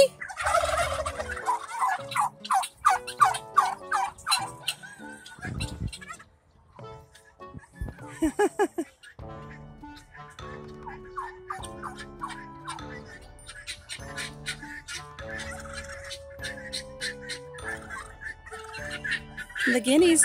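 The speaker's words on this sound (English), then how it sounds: "The guineas know that there's something wrong here on the farm, so they're all making their noises." Guinea fowl on a farm call in loud, rapid, repeated rattling bursts, with turkey-like gobbling mixed in and overlapping calls throughout.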